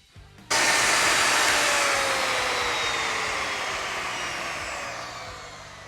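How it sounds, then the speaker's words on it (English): A handheld wood router cuts a decorative edge on a wooden sculpture display table. It starts abruptly with a loud, steady whine that holds, then tapers slightly as the cut goes on, with no talk over it. "we will use a router bit that is simple but still creates a nice edge"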